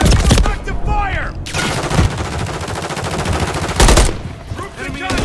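Rapid, loud automatic gunfire in Call of Duty: Modern Warfare 3 (2023), sustained dense bursts with brief gaps, shouted callouts from players mixed in.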